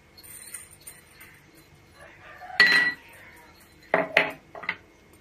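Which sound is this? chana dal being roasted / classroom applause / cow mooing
chana dal being roasted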